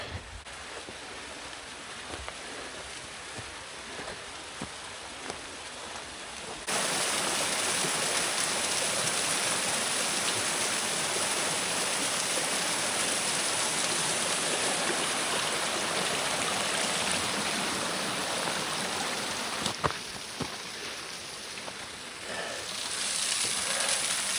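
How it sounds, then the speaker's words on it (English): Small mountain waterfall in the High Uintas wilderness: a soft rushing of water at first, then a loud, steady roar of falling water that fills the rest of the clip with no voices. "here we are at a pretty sweet waterfall"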